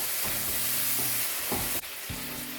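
Butter sizzles in a pan as an ingredient is stirred in, with a steady frying hiss and soft scraping stir strokes, fairly quiet and close, no voices.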